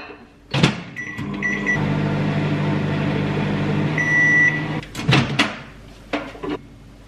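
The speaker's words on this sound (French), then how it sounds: "Et puis là je vais juste mettre 1 minute 30 au micro-ondes." A microwave oven heating a protein mug cake: a door clunks shut, keypad beeps sound, then a steady humming whir runs for a few seconds and stops with beeps, followed by the door clattering open.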